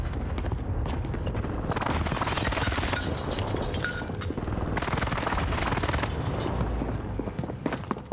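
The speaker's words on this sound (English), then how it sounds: "Allied precision airstrike incoming." A dense, continuous roar of explosions and gunfire from an allied precision airstrike in a war video game, rumbling loudly and steadily throughout without pause or talk.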